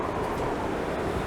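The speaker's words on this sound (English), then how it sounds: "you can hear that wind out there" Wind blows outside in the survival game The Long Dark as a steady, hollow, breathy whoosh, even and unbroken, with no voices over it.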